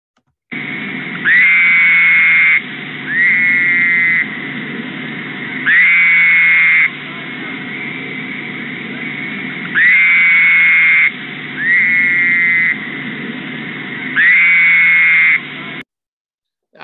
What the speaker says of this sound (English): The Fowler's toad is probably the most obnoxious.